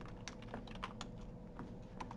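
Steady typing on a computer keyboard, with quick irregular key clicks running throughout at low level, no voices.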